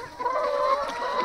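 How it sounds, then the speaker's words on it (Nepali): Hen clucking at a poultry hatchery, a short nearby run of tonal clucks and murmurs heard alone. "यिनी कुखुराले चाहिँ हाम्रो अन्डा पाइरहेछ"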